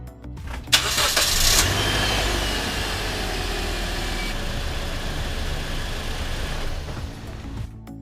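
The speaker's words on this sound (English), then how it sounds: "I'm going to start the car so the fluid circulates" A Toyota Corolla engine with automatic transmission cranks and catches with a brief roar, then settles into a steady idle that hums on nearby for several seconds.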